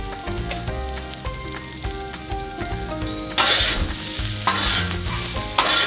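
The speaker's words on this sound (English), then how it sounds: "Now mix the Brussels sprouts, onions and garlic, turning them every now and then so they roast together." Brussels sprouts, onions and garlic sizzle loudly on a Blackstone flat top grill while a spatula scrapes and turns them, with a steady hiss and irregular metallic clacks close by.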